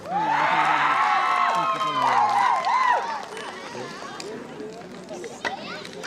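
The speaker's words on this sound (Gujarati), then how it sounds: "વાહ તાળીઓના ગડગડાટથી પાર્ટીને વધાવો" A party crowd at a resort party plot cheers and whoops loudly, with some clapping mixed in. The noise is strongest for the first three seconds, then settles into a lower, steady crowd murmur.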